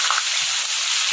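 A large katla fish head sizzles in hot oil in a pan, giving a loud, steady, even hiss with no voices over it.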